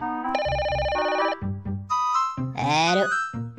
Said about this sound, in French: Je t'ai déjà dit de pas m'appeler pendant que je travaille.